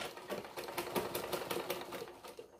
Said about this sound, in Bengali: এইভাবে সম্পূর্ণটা আমরা কোমরটাতে সেলাই করে দিই।